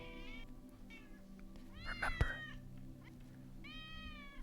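A cat meows several times indoors, rising and falling wails spaced across the moment, with a sharp thump in the middle and a person speaking briefly.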